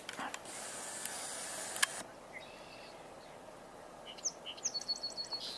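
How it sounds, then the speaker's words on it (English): Song sparrow singing outdoors on a spring birding walk, a bright run of short chirped and trilled notes near the end, moderately close above a steady background hiss. "Song sparrow."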